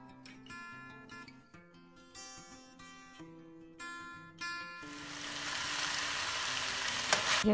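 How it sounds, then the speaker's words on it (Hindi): Chicken cooks with vegetables and spices in a hot pan, a faint crackling sizzle building into a steady, louder fry in the second half, under background music without speech. "और ये चिकन मैं इसमें डाल के अच्छी तरह सब्ज़ियों के साथ पका लूँगी, वेजिटेबल एंड स्पाइसेस के साथ।"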